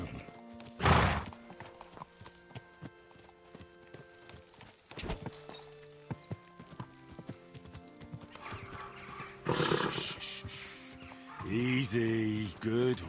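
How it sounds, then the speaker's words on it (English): Horse hooves clop in a video game, Kingdom Come Deliverance 2, with a loud neigh near the start and another whinny later, over quiet ambient game sounds and occasional bird or fowl noises. "Easy, good horse."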